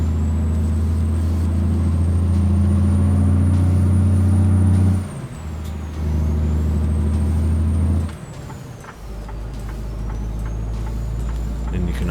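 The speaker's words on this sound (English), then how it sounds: "You can just only hear the engine sounds." A heavy truck engine in American Truck Simulator drones loud and close, its low rumble holding steady, dropping briefly as it shifts, then settling into a lower running tone, with no talk.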